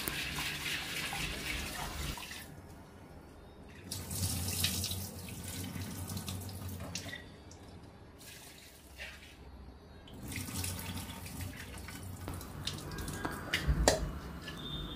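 Soaked green gram and peanuts are rinsed under a running kitchen tap, with water gushing steadily and close and stopping in brief pauses between bursts of flow and splashing.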